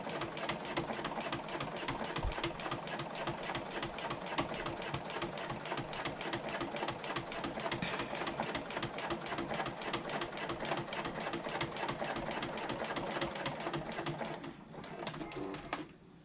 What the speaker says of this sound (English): pull long threads and stitch all the way across.